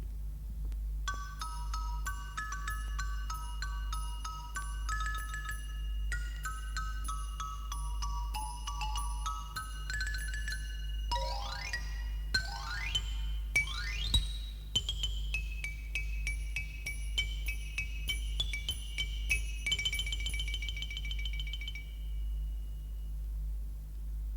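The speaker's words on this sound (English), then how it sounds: "the Chinese finger cymbals, which make a tiny, exquisite sound" Delicate metallic tings from small finger cymbals ring out in a gentle sequence, with clear shimmering tones over a low steady hum.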